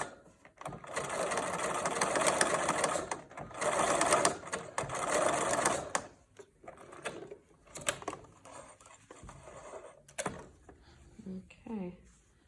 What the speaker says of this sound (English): then straight stitch down the tip of that, and then secure it